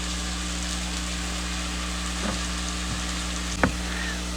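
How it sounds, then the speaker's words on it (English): Spinach sautéing in a pan for Greek tomato spinach rice makes a soft, even sizzle over a low steady hum, with a couple of sharp clicks from the utensil. "We're going to saute the spinach for about 5 minutes"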